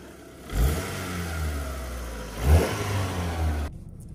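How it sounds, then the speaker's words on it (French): Ford Cougar 2.0i 16v coupé engine blipped twice from idle, two quick revs rising and falling over a steady mid-pitched idle, heard from inside the car with no talking. "Je te laisse mettre quelques coups de gaz, Romain."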